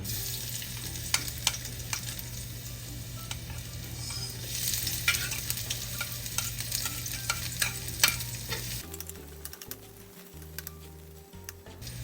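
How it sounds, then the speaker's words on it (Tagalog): Onion and garlic sauté in hot oil in a pan, a steady close sizzle with scattered ticks and scraping stirs that quiets near the end while a low hum continues. "Gigisa na po natin yung ano, sibuyas at bawang."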